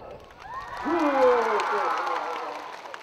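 Crowd of vocational students at a study-abroad seminar clap and cheer, swelling into a broad burst of applause with shouts and voices mixed in.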